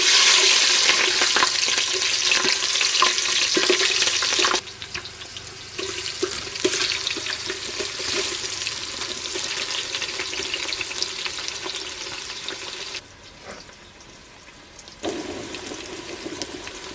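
Cinnamon, cardamom, cumin and onions fry in oil in a pot for chicken pulao, a loud, steady sizzle with stirring, dipping quieter in the middle and near the end.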